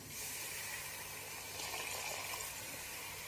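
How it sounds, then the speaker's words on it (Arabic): Water, about two cups, pours from a container into a cooking pot as the first step of an Omani flour and date porridge, a steady close gushing splash with no voices. "أول شي راح أحط 2 كوب ماء،"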